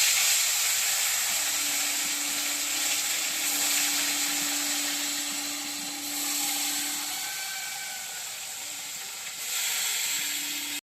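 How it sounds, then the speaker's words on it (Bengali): Fish frying in hot oil in a wok gives a steady, dense sizzling hiss that runs the whole time, loud and close, with a faint low hum underneath and no talking. "বন্ধুরা, তেলটা এখন গরম হয়ে গেছে। এখন আমি মাছটা ভেজে নেব।"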